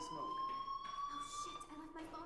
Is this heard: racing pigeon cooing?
no